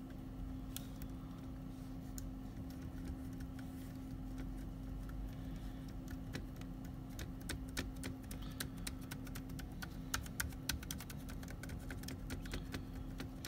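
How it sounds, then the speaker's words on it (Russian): Typing on a computer keyboard that is partly broken, with the Enter key among the dead keys. Irregular soft clicks run steadily over a low constant hum, growing denser and sharper toward the end, with no voices. "Точнее, очень даже большая часть клавиатуры не работает."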